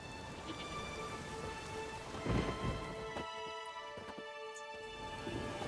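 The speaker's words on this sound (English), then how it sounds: "There's no point standing here in the rain." Rain and thunder in The Witcher 3: Wild Hunt Next-Gen, steady rainfall hiss with a low thunder rumble swelling in the middle, no voices present.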